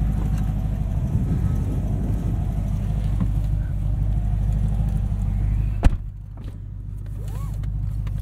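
A 2012 Chevrolet Corvette Z16 Grand Sport manual coupe engine rumbles steadily and loud with a deep droning exhaust note from its open exhaust valve, followed by a sharp knock and a quieter idle.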